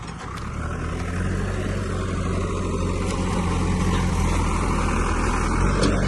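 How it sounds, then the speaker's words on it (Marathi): A tractor engine runs steadily at a bullock-cart race ground, a continuous low rumble holding at an even level throughout with no voices over it. "ट्रॅक्टर चालू आहे ना आपला"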